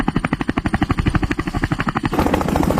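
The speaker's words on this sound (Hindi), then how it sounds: "ये क्या आ रहा है? फौज की हेलीकॉप्टर है।" Army helicopter approaching with a loud, steady rhythmic rotor chop that thickens into a denser roar toward the end, heard alone without talk.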